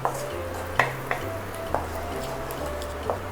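Stirring and mixing of a Mughlai chicken curry in a pan, a spoon tapping the pan in a few sharp clicks over a low steady hum and faint sizzle.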